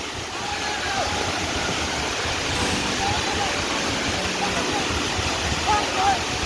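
Fast-flowing floodwater pours from a lake overflowing after heavy village rain, a dense continuous roar of rushing water that holds steady at close range throughout.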